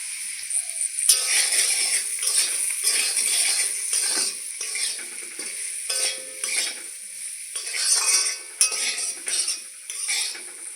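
Spoon stirring and mixing turmeric, cumin, chili powder and salt into a radish dish in a pan, with repeated scraping clinks and rattles against metal and a light sizzle, close and steady with no talking.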